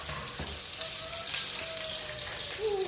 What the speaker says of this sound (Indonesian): minyaknya sudah panas dan saya mau menumis bahannya dulu